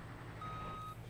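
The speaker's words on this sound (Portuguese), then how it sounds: "Eu vou tentar entrar de ré, galera." Truck reversing beeper in the BeamNG.drive driving game, a single steady electronic tone held over a low idling engine rumble.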